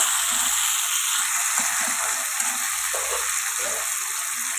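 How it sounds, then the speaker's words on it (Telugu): Onions and tomatoes fry in a pan with a continuous, even sizzle and occasional soft stirring knocks, with no voices. "కలుపుకొని ఉల్లిపాయ మగ్గినంత వరకు ఫ్రై చేసుకుందాం."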